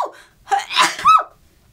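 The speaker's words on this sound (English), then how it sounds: "I need to sneeze." A single close sneeze from a person unboxing a crate, preceded by a sharp gasping inhale and followed by a brief wheezy breath, then quiet.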